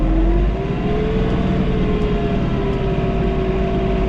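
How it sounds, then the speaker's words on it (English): A John Deere 3046R tractor engine drone rises in pitch as the throttle opens while mowing trails, then holds at a higher, even hum without voices. "as I step on it, you'll hear the tractor throttle up."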